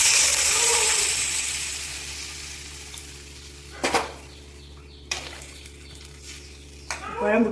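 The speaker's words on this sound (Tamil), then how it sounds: "வெங்காயம் வதங்கிட்டு இப்போ புளித்தண்ணி ஊற்றுறேன்" Tamarind water poured into a pan of sautéed onions while cooking sambar, sizzling and hissing loudly at first and then settling into a softer simmer, broken by a few sharp clinks and stirring knocks.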